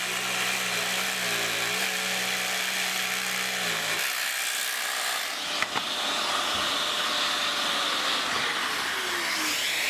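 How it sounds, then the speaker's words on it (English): Power jigsaw cutting through a square block of wood, a loud continuous buzzing rasp that holds steady throughout, its pitch shifting slightly as the blade works through the cut. "we're going to give it a cut with our jigsaw"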